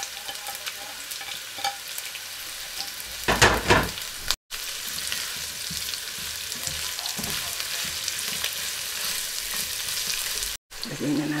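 Thinly sliced onion hits a hot frying pan for Mongolian beef and sizzles loudly and steadily at close range, with a burst of stirring and scraping early on and no talk.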